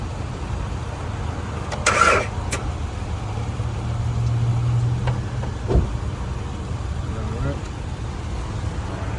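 Worn-out car engine idling, a low steady rumble throughout, close by, with brief higher clatters and a faint tonal whine midway; people speak over it.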